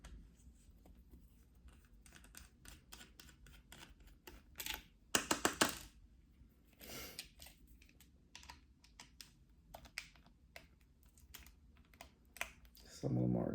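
A screwdriver removes the four cover screws from a Dell Inspiron 1564 laptop, giving close, scattered small clicks and ticks with a few sharper taps midway and a brief low thump at the end.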